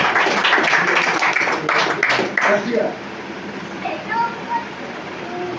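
A church congregation claps through a New Year message, a dense patter of hands for the first few seconds that fades out, with a voice speaking over it and afterward.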